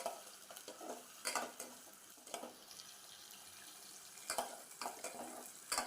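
Prawns stir-fry with mustard seeds and garlic in a pan, a quiet, steady sizzle punctuated by repeated bursts of spatula stirring and scraping, close by and without speech.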